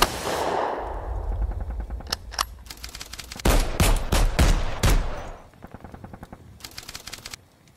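In a cinematic tabletop battle, German Grenadiers open fire on a Vickers machine-gun team. Sound-effect gunfire crackles in rapid bursts and single sharp shots, with a heavier volley in the middle and sparser shots trailing off.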